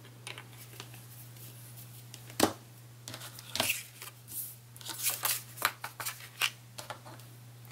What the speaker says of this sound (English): I'm just gonna put them together and I'm just gonna cut at an angle.